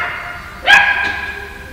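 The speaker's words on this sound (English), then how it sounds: "That's the next door's baby dog going for a walk." A neighbour's puppy on a walk gives a single short, high bark, heard at a moderate distance over a steady background hum.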